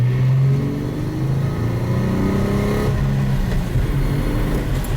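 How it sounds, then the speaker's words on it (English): A JDM import car accelerating lightly on a test drive, with a steady, moderately loud engine drone and rising tones heard from inside the car, no talking. "We'll test drive it and really verify it. It happens mostly during acceleration, light acceleration."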